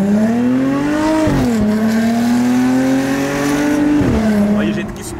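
A car engine revs hard under full throttle from a standstill, a loud continuous roar that climbs in pitch, dips briefly at gear changes and rises again, close and dominant.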